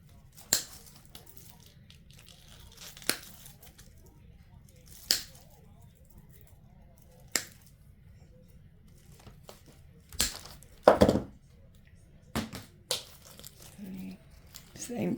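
Dollar Tree craft pieces being cut with scissors: a handful of sharp snips and crinkles spaced apart at close range, followed by a denser cluster of cutting and rustling near the end, over quiet room hum.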